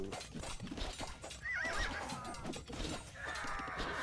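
Horses whinny and hooves clip-clop in a medieval strategy video game, a clear neigh rising midway over the hooves and a second whinny near the end, all under steady game ambience.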